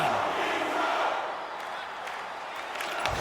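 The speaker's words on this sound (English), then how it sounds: "You can feel the energy in this crowd." A steady roar of crowd noise fills an ice hockey arena during a tied game before a face-off, loud and continuous, with a commentator talking over it.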